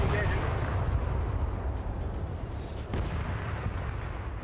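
Tank cannon and gunfire in a Cold War armored battle game with East German T-55 tanks, heavy rumbling booms and crackling shots blending into a dense, continuous barrage, with a voice talking faintly underneath.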